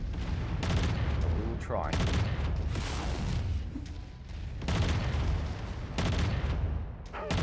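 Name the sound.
burst-fire autocannon shots in MechWarrior 5 video game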